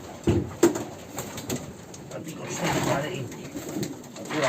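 Arden pigeons in a breeding loft coo softly, with a couple of sharper nearby bursts and a steady low murmur of birds throughout, and a person talks faintly in the background.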